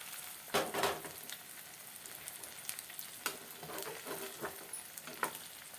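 Egg sizzling and frying in a pan, crackling steadily for several seconds with a few louder pops and stirring clatters, no voices.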